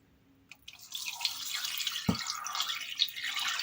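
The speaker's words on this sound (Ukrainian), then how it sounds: "і вже ним заливаємо м'ясо." Salted brine is poured over meat prepared for smoking, giving a close, steady splashing liquid pour that starts after a faint tap and runs continuously with a brief dull knock midway.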